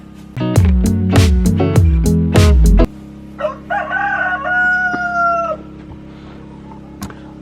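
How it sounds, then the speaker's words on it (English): A rooster crows loudly and close by, a long strained call, followed by a second, thinner crow and a few scattered clucks. "the roosters crow first thing in the morning"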